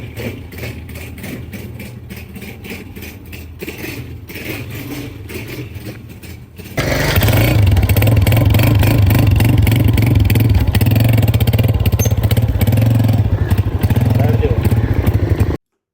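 A motorcycle engine starts partway through and settles into a loud, steady idle with a low rumbling chug, after a quieter stretch of background noise.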